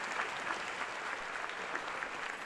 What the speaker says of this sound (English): So have a round of applause for John Jay ROTC.